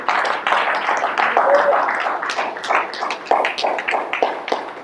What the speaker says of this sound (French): Can you clap our hand for the Lord?